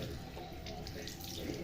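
Tap water runs steadily into a sink while a child rinses their mouth after brushing teeth. The flow is close but quiet, and a voice speaks softly over it.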